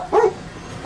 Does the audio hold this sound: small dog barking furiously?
yes